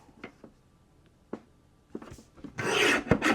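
A paper trimmer slices cardstock for handmade cards: a few light taps and clicks, then a loud, close rasping swipe as the blade runs along the sheet.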